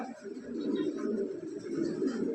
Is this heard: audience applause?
no